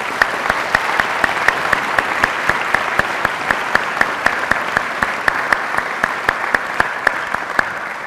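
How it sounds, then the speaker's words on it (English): An audience at a college presidential inauguration ceremony gives sustained applause, a loud, even wash of many hands with crisp individual claps throughout and no speech. "So can I ask for a round of applause for those?"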